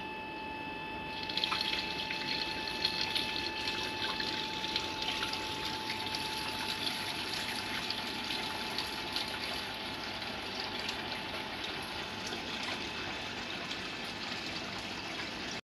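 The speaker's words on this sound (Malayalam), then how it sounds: "അപ്പം നമുക്ക് ഇതിൻ്റെ ഉള്ളിൽ വെള്ളം നിറക്കാം" Water pouring steadily into an aquarium tank from a hose or tap, a continuous splashing rush that starts after a quiet second and holds at an even level throughout, close by and with no talking.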